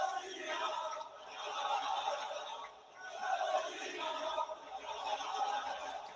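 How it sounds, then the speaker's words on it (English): Wrestling arena crowd at a WWE Clash in Paris event, a distant, faint swelling roar of cheering and chanting that rises and dips in waves. "Man, this crowd's getting into it."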